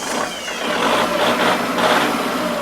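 A secondhand Kubota L4708DT tractor with a four-cylinder direct-injection diesel engine and a performance exhaust starts up and settles into a steady, loud, close idle, its rough rumble heard on its own.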